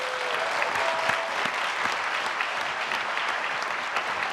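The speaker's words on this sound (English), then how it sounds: "How about another round of applause" A large audience at the National Geographic Bee finals applauds the student finalists, a sustained, even roar of many hands clapping that fills the hall, with a faint tone briefly audible early on.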